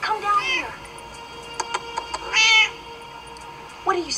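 A cat meows, apparently stuck somewhere up high, with one drawn-out meow at the start and another near the end, separated by clicking sounds and a short burst of noise.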